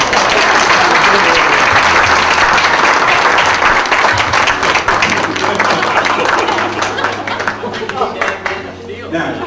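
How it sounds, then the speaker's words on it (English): Sustained audience applause at a memorial celebration of life, dense and loud for most of the stretch, then thinning toward the end with a few scattered claps and some low murmuring underneath. "Another round of applause for this."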